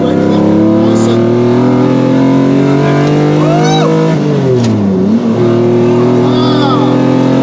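A Lamborghini Diablo engine pulls hard in second gear on a mountain highway, its rising howl climbing in pitch, dipping briefly at a shift, then surging again, loud and close inside the cabin.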